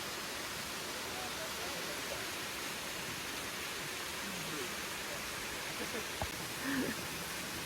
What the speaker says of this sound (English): Here's the waterfall that the trail crosses.